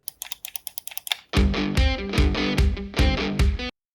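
Rapid light plastic clicks, then a series of louder, heavier presses of a CoolShark JK02 gamepad's L1, L2, R1 and R2 shoulder buttons in irregular bursts, close up with no talking.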